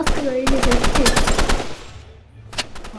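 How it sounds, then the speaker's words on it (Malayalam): Rapid automatic gunfire in the Roblox shooter game Rivals, a fast burst of close, loud shots followed by a short pause and a few more scattered shots, with faint game sounds underneath. "ഈ ഒരെണ്ണത്തെ വെടി വെച്ചു."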